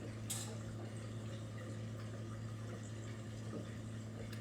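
Custard poured slowly into a baking dish in a home kitchen, a faint soft trickle of liquid beneath a steady low background hum, with one brief clink near the start.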